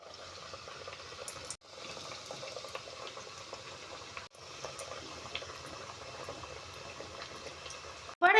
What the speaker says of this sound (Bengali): একইভাবে বাকিগুলোও ভেজে নেব।